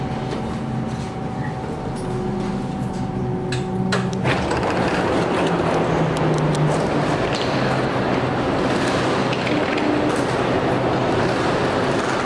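A driverless Budapest Metro Line 4 train, a steady electric whine giving way to a loud, continuous rolling rumble and rattle as it moves through the tunnel.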